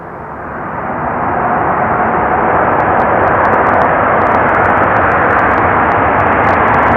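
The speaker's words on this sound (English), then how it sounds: "About to touch down is an Aeromexico Dreamliner coming in from Mexico City, a 7879" An Aeromexico Boeing 787-9 Dreamliner landing at Amsterdam Schiphol's Polderbaan runway, a loud broadband jet roar that swells over the first seconds and then holds steady and close, with no talk.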